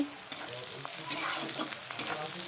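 Onion and green chili frying with spices for a potato and eggplant bharta, a close, busy sizzle with constant crackle and frequent scraping strokes of a spatula across the pan.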